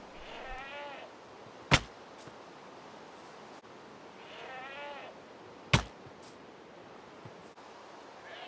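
Two short bleats from a goat in Minecraft Bedrock, each a brief wavering call standing alone over a steady hiss of ambient noise, spaced about four seconds apart with a sharp click following each.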